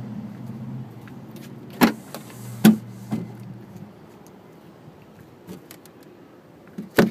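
Power tailgate on a 2011 BMW X5 opening: a few sharp mechanical clicks and thumps spaced over several seconds, with a brief low motor hum between them. The sound is close and there is no talking.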